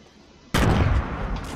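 Gunfire in a Fortnite Battle Royale match, with a loud sudden burst of shots that starts abruptly and continues as a dense, sustained crackle.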